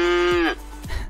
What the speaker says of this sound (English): how does a cow sound? Here's a cow sound.